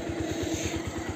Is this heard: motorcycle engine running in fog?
yes